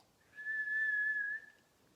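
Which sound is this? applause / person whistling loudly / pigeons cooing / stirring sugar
person whistling loudly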